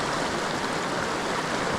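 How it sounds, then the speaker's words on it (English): A small waterfall on a trout stream rushes in a steady, close wash of falling water, unbroken for the brief moment. "Look at that amazing waterfall right there, guys."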